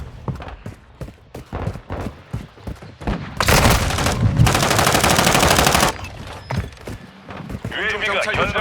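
Gunfire in Call of Duty: Modern Warfare 2 multiplayer: loud repeated single shots, then a sustained automatic burst lasting a few seconds, followed by more shots, with voices speaking over the action.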